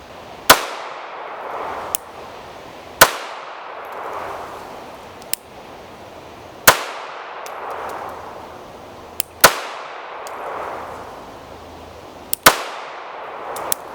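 Shots from a Springfield Armory Hellcat .380 ACP pistol crack out one at a time at uneven intervals, sharp and loud, each followed by a ringing outdoor echo, with smaller pops from other firing mixed between.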